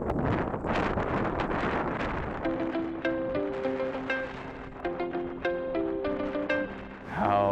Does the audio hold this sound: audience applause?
no